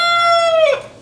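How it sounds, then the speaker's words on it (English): A rooster on an urban backyard homestead crows once, loud and close, a single drawn-out call that fades at the end. "You can imagine 4 roosters crowing at different times, and actually they crow around the same time, so they take turns."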